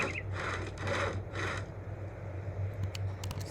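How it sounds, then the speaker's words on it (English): Logs being sawn with a hand saw in the video game Project Zomboid: three rhythmic rasping wooden strokes close up, then a few faint clicks over a low hum. "she's just sawing because she's got the saw to do it"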